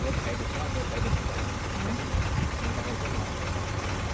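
A farm tractor engine runs steadily at low revs, a constant low rumble at moderate distance that holds through the whole stretch.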